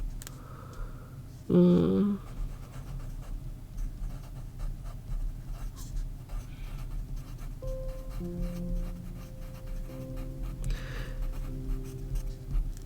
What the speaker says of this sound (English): I fucking love the sound of a pencil writing